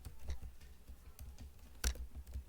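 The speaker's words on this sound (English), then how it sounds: "I'm going to type create React app" Soft, irregular keystrokes on a computer keyboard typing a terminal command, quiet clicks in short bursts with one sharper tap, no speech.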